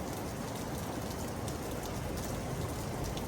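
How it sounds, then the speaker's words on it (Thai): Heavy rain pours down steadily as a typhoon approaches, a dense, loud, unbroken hiss with no voices. "ฝนตก"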